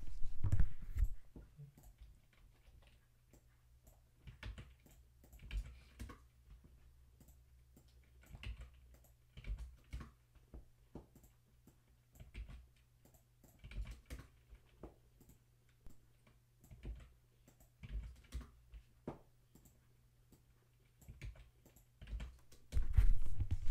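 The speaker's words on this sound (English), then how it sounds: "I just type, 음, copy and paste." Soft, scattered keystrokes tap on a computer keyboard while typing and pasting Korean vocabulary, close but quiet, in irregular clusters with a few louder knocks at the beginning and end.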